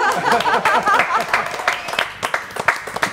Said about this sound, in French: Allez, on les applaudit tous les deux.